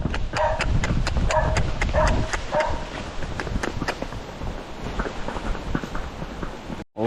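Large horses run with a rapid, loud clatter of hooves close by, while a dog barks in repeated sharp bursts over the first few seconds before the hoofbeats carry on alone and fade.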